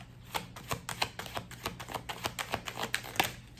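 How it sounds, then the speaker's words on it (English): Tarot cards being shuffled by hand, a quick run of crisp clicking snaps at an irregular, fairly steady rhythm, close and alone with no talk. "Cards already don't want to shuffle, so let's just see where this goes"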